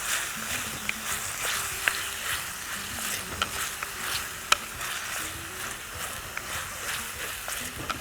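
Ginger garlic paste and chopped tomatoes sautéing in a pan: continuous soft sizzling with repeated light clicks and scrapes of a spoon stirring against the pan, close and fairly quiet.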